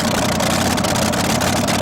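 A 1938 Ford race car with a 426 Chrysler Hemi engine rumbles loudly and steadily at a race track, a thick, continuous engine roar with no talk over it.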